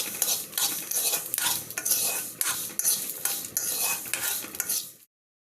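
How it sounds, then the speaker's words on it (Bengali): Garlic, dried chillies and onion fry in a pan, stirred briskly with a metal utensil in rapid repeated scrapes over a steady sizzle, close and fairly loud, stopping abruptly near the end; no one speaks. "রসুন, শুকনা মরিচ আর পেঁয়াজটা ভালো করে ভেজে নেব।"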